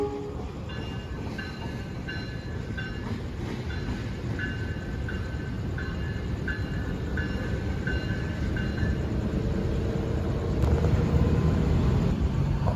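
A parcel train rumbles steadily through Bandung station in the evening, with continuous rail noise, faint clickety-clack and a brief high squeal or horn near the end.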